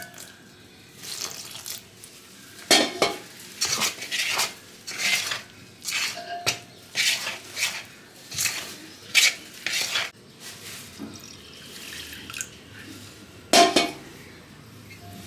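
Yogurt batter for dhokla is stirred in a bowl while water is mixed in, giving repeated rhythmic scraping and clinking of utensil against the dish, close and fairly loud, with no talking.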